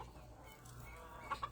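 Chickens cluck softly at a distance around a farmhouse porch, a couple of brief calls rising near the end over a low steady background hum.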